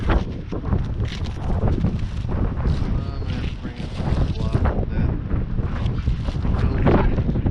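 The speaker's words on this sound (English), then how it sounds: "Now it's windy. Still windy." Heavy wind buffets a GoPro Hero 7 with a Saramonic mic, a constant low roar and rumble while someone talks over it outdoors atop a lumber stack.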